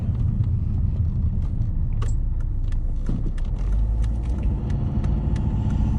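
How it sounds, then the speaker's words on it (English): A Volvo passes with a low, steady rumble just after an oil change, with a few faint clicks and rattles mixed in nearby. "the car is much quieter from the outside than it was"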